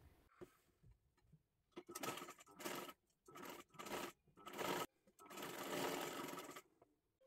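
A sewing machine stitches kathpadar saree fabric, running in several quick bursts and then one longer steady run, close and alone with no talking.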